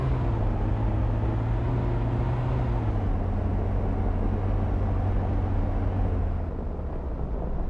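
Steady drone of a car engine driving in the video game Arma 2, a continuous low rumble that holds evenly throughout, shifting slightly in pitch partway and easing near the end, with no voices.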